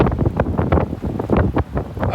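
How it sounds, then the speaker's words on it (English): Gusty wind buffets the microphone outdoors in uneven, rumbling bursts, close and fairly loud. "It's a little bit windy out here."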